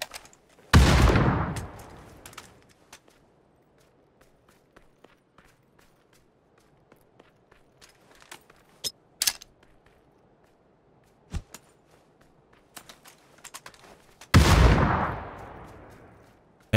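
PUBG solo-match gunfire: two loud, sharp shots about fourteen seconds apart, each with a long ringing decay, and a scattering of faint clicks and small pops in between.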